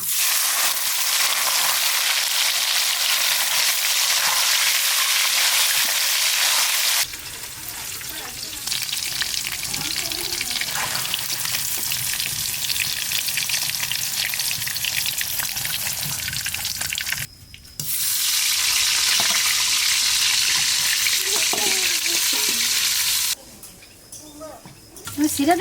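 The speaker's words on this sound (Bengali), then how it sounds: "এবার পনিরটা ভেজে নেব।" Paneer frying in white oil in a pan, a loud steady sizzle that drops away in places while a voice talks over quieter stretches, then the hiss returns near the end.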